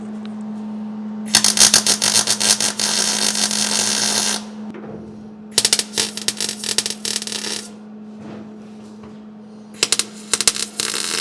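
Tack welds on a patch panel set into the floor of a 1946 Pontiac, heard as three close, loud bursts of harsh crackling buzz, the first long and the others shorter and broken, over a steady low hum.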